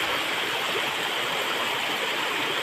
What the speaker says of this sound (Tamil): தண்ணி நிறையா போகுது.